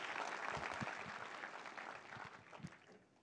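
Audience applause for the 1983 World Cup cricket heroes at a CSK celebration event, a fairly faint, steady wash of clapping from a crowd that tapers slightly toward the end, with no clear voices over it.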